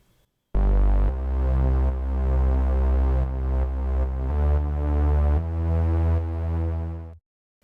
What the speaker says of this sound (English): I added a high pass filter to the Reese bass